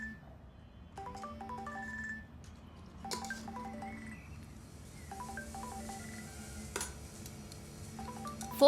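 A mobile phone ringtone repeats in melodic bursts, going unanswered, quiet against faint background clatter that sounds like dishes.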